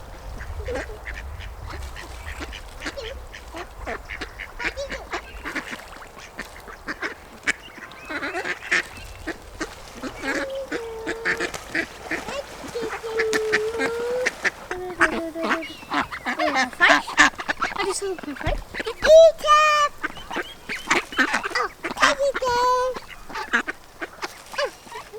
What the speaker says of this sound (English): What are you feeding the ducks?